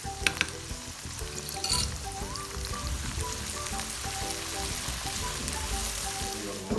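Garlic and ginger paste frying in hot oil for egg fried rice, a steady close sizzle with light stirring clinks throughout.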